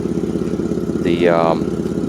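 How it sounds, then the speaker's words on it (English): A 1992 Mercedes 600SEL engine with an exhaust leak idles with a steady, rough, puttering rumble throughout, and a voice speaks briefly over it midway. "That exhaust leak is bothering me."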